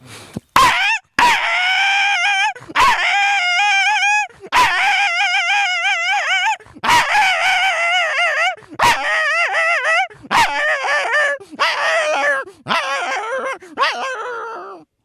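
A man imitates a dog yelping and whimpering as it flees after being struck with a stick or stone, a run of loud, high, wavering yips and whines broken by short pauses.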